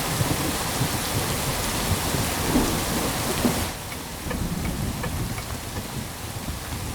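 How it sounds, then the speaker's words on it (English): Heavy rain pours down in a dense, constant hiss that eases slightly partway through, with no voices. "It's raining heavily."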